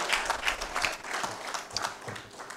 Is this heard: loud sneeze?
no